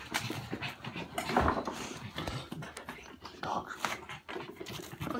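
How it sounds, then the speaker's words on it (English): A dog pants in quick, uneven breaths indoors amid a family Christmas gathering, with soft clinks and faint household movement around it. "It's our dog."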